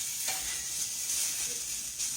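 Food browning in a frying pan for a night-time home supper, a soft steady sizzle and hiss close by with faint stirring scrapes, no talking.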